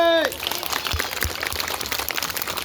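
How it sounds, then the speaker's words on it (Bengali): Children at a school assembly break into a burst of loud, dense clapping right after a brief voice, the applause filling the rest of the moment. "সবাই জোরে একটা করতালি"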